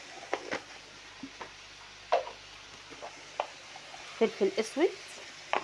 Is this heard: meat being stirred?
yes